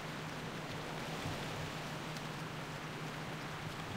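Heavy rain pours steadily in World of Warcraft Classic, a dense, even hiss of falling water with a faint low hum beneath, unbroken throughout.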